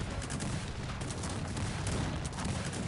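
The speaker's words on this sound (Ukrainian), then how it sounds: "Ну зараз я тут просто настрілюю гарматами" Dense, continuous rumble of cannon fire and battle noise in the strategy game Cossacks, with rapid overlapping booms and no clear pauses.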